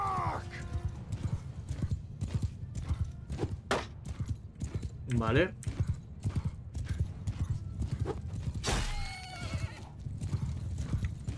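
Horses in a Mount & Blade II: Bannerlord battle: steady clip-clop of hooves throughout, with several loud neighs and whinnies over the din while someone speaks.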